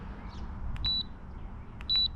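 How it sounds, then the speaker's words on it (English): A Minn Kota i-Pilot remote paired with a Terrova trolling motor gives short, clear electronic beeps, two distinct double-tone chirps about a second apart, close and over a low outdoor background hum without talk. "the 3 beeps mean that it's paired"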